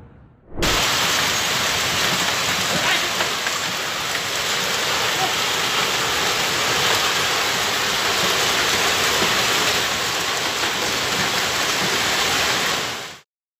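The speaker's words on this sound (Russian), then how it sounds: "Ливень с градом прошел вчера в Гаване, являющейся столицей Кубы." A heavy downpour with hail pounds Havana, Cuba, a dense, loud, unbroken roar of falling water and ice that starts abruptly and stops abruptly, with no voices heard.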